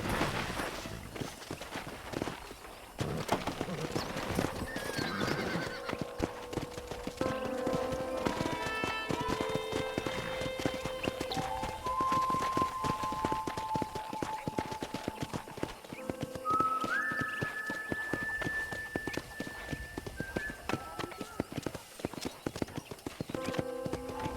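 Steady clip-clop of horse hooves walking throughout, with a few drawn-out whinnies rising over them, amid faint background ambience, in the video game Red Dead Redemption.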